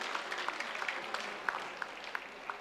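A listening audience claps at a Tamil public speech, a fairly soft, thin patter of hands with a few sharper individual claps standing out, steady and unaccompanied by talk.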